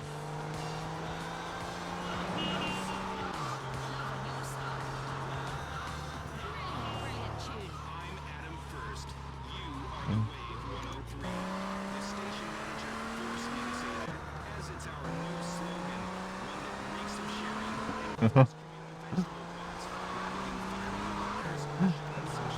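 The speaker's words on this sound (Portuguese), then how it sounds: "A porcaria de corrida de moto." Motorcycle race in GTA Vice City Stories on PS2: bike engines rev and shift through repeated rising gear pulls, with a few sharp impacts and tire noise, while people talk throughout.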